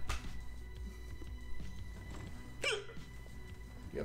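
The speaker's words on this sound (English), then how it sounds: "You have the hiccups" A character in the video game Bully hiccups in a few sharp, isolated bursts over steady game background sound, with no one talking.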